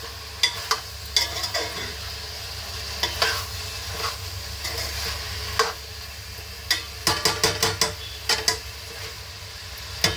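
Ginger garlic paste fries with garam masala in a pan, a low steady sizzle under repeated sharp clicks and scrapes of a utensil stirring against the pot, coming in irregular clusters.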